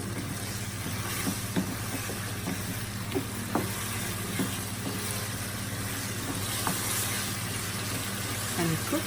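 Onions and carrots for a chicken stir-fry sizzle steadily in a pan while being stirred, a continuous frying hiss with small scraping clicks over a low hum.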